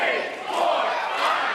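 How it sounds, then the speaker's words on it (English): Wrestling crowd at an indie show shouting and cheering together in a sustained, loud roar, joining in with the in-ring action as a tag team calls for participation. "A little bit of crowd participation in the offense."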